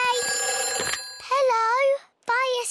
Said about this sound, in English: It's the fire phone. Oh, can you answer it, Peppa?